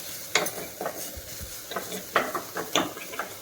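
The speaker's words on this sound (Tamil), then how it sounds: "அதையும் சேர்த்து 1 நிமிஷம் கைவிடாமல் நல்லா இந்த மாதிரி நல்லா வறுத்துக்கோங்க." Garlic, green chilli and curry leaves frying in ghee in a pan for rasam, stirred briskly: a sputtering sizzle broken by repeated close scraping and tapping strokes of a spoon against the pan.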